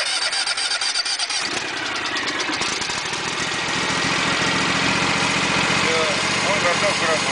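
Husqvarna CTH 224T garden tractor engine cranks and catches on choke, the rough starter whir giving way to a loud, steady running idle close by.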